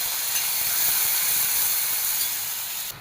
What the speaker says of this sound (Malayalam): ഇതാ സവാള ചെറുതായിട്ടൊന്ന് വഴണ്ടി വന്നിട്ടുണ്ട്